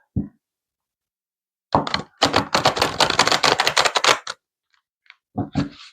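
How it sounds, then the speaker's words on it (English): A deck of cards is riffle-shuffled in a quick flurry of crisp clicks lasting about two seconds, with a few soft taps before and after. "Do one more shuffle."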